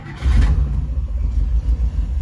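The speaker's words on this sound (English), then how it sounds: "I'm just going to start it up." A 1955 Chevrolet Bel Air convertible, a survivor barn find, starts on a cold engine and settles into a loud, close, deep rumbling run that stays steady throughout.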